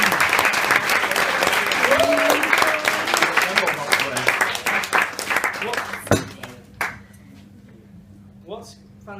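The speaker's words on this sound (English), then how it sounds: "So I can have a round of applause for" Guests at a wedding reception give a round of applause, lively clapping with scattered voices that thins out after about six seconds, leaving a few last claps and quiet room sound.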